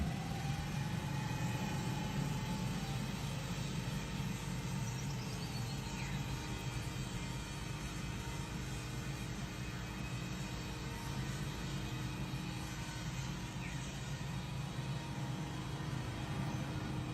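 A Honda engine drives a 1-cubic-metre concrete mixer drum with stainless steel bolts. It runs as a steady, loud, continuous drone with no pauses or talk.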